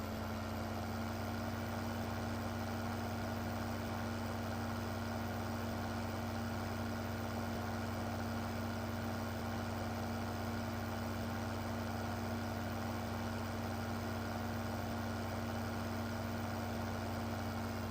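A tractor engine runs in the Farming Simulator 15 video game during a potato harvest in Idaho, a steady continuous drone with a fixed hum and no change in pitch or speed throughout.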